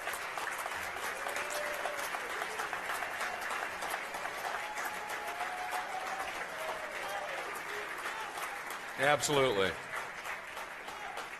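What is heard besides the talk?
applause for the racing crews at a banquet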